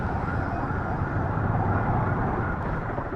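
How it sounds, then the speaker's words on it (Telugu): Ambulance siren wailing continuously amid a dense traffic jam on a road in Odisha, blended with steady engine and road noise at fairly close range. "ముందున్న అంబులెన్స్ కూడా దారి ఇవ్వడానికి లేదన్నమాట."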